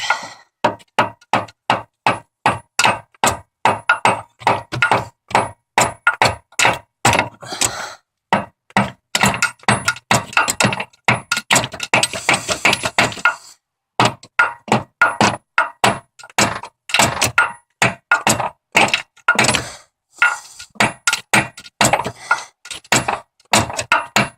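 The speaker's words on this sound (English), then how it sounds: "Alright, I'm going to try and hammer this thing out." Repeated heavy hammer blows strike a stuck metal part during timing chain repair in a steady, rapid rhythm, close and loud, continuing with only short pauses throughout.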